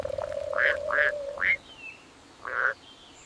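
A cartoon frog in an animated fairy tale croaks four times, short bright nasal calls spaced irregularly over a sustained tone, close and clear against a quiet background.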